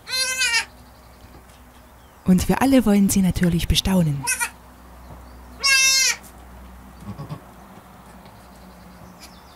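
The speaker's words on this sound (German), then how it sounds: "Endlich sind die wunderhübschen kleinen Ziegenkinder da." Newborn goat kids, three of them, bleat in short shrill bursts close by, alternating with calm German narration spoken over a quiet background.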